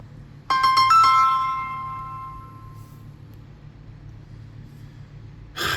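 A mobile phone ringtone plays a short series of bright, bell-like electronic chimes that ring out and slowly decay in a quiet room, followed by a brief burst of noise at the end.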